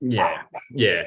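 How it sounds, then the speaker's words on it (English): A dog barks twice in quick succession, close and loud, with a brief short yip between the barks, indoors during a conversation. "Sorry, that's the dog."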